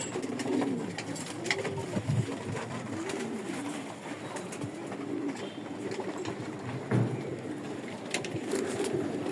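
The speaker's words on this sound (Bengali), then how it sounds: "এটা ও কবুতরকে পাপ্পা খাইতে আসছে" Pigeons coo repeatedly in soft, rolling calls at close range, over a steady background hum with occasional other bird chirps.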